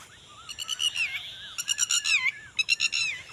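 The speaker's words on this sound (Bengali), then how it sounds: "ওই টিট পাখি কেমন করে টিটিট করতেছে" A lapwing calling over farmland in a rapid burst of shrill, repeated piping notes, three quick series with brief pauses between, fairly close and clear over quiet background.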